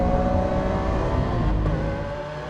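A Lamborghini Aventador S engine roars loudly and continuously on a race track, a dense, sustained bellow held close throughout.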